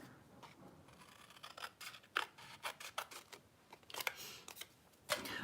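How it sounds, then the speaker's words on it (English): Snipping with a pair of scissors while working on a traveler's notebook, a quiet close series of irregular short cuts with small pauses in between. "Let's get out some scissors."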